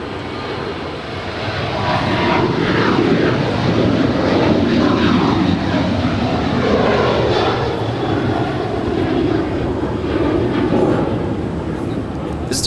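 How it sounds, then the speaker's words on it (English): United Airlines Boeing 737-900ER jet departing LAX, a loud, sustained engine roar that swells within the first two seconds and holds steady throughout, with voices talking faintly underneath. "This departure is United Airlines Flight 552. Departing to Denver, it's a 737-900 ER."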